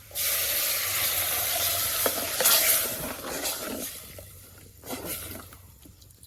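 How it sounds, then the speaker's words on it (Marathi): Cubed sweet potato stirred and sautéed in ghee in a pan, a steady loud sizzle with scraping strokes of the spoon, easing off toward the end. "ह्या बघा रताळा मी तुपात परतून घेतलं"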